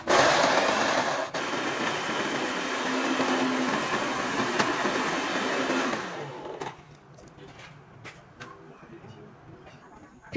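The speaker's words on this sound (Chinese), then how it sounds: "放进搅拌机里搅碎。" An electric blender grinds chopped garlic and shallots, a loud continuous whirring drone for about six seconds before it cuts off, leaving quieter clicks and handling noises.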